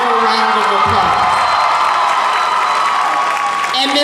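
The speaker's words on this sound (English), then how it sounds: "can we give Ms. Morgan another wonderful round of applause?" A graduation audience claps and cheers, a dense, loud wash of applause with whoops and shouts throughout, with voices rising near the start and end.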